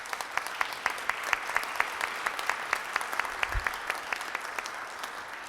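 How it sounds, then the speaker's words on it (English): Applause from the audience at a Rotary club meeting honoring Cincinnati public school teachers, with steady, fairly light clapping and individual claps standing out, continuing evenly throughout with no talking. "Let's give them a round of applause."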